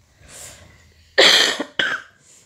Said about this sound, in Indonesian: Maaf ya, aku lagi batuk.